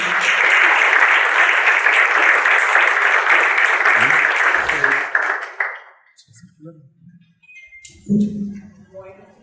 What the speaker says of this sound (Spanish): Un aplauso, por favor, a nuestra invitada, Carolina Quintero.